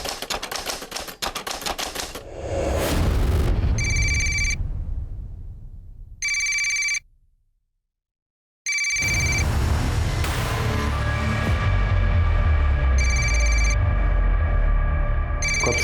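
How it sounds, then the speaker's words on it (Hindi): A telephone rings in a tense crime drama scene, its electronic bursts repeating loudly in spaced pulses over a dense musical score, with a brief near-silent gap in the middle. "कब से फोन बज रहा है"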